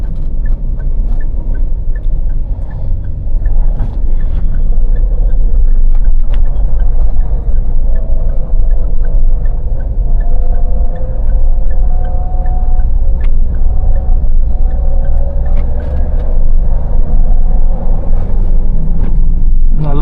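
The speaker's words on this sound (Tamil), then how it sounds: "நல்லா போகுது வண்டி, ஸ்மூத்தாக கிராஜுவலாக ஏறுது" Mahindra Thar SUV cruising smoothly along a road, a steady low engine and road rumble continuing throughout, heard from inside the cabin with no talking.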